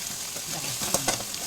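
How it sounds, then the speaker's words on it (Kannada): Chopped onions frying in hot oil with cumin, mustard seeds, curry leaves and garlic, a steady soft sizzle with a few sharper crackles and stirring scrapes, close by. "ಸಣ್ಣಗೆ ಕಟ್ ಮಾಡಿದ ಈರುಳ್ಳಿಯನ್ನು ಸೇರಿಸಿಕೊಂಡು ಅದನ್ನು ಕೂಡ ಫ್ರೈ ಮಾಡ್ಕೋಬೇಕು"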